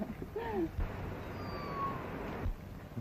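A cat in a 1935 Western film gives one short, rising-and-falling meow early on, clear over a steady background hiss.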